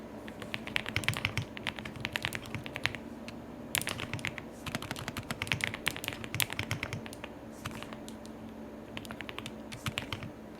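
Rapid typing on a computer keyboard while working in Illustrator, with clustered bursts of clicky keystrokes and brief pauses, ending in repeated backspace presses; close and moderately quiet, no voices.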